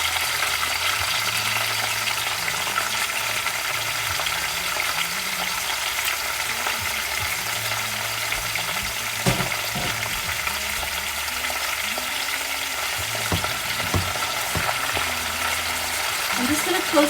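Garlic bok choy stir-frying in a partly covered pan, a steady, fairly loud sizzle and crackle running throughout with a few faint clinks and low background tones.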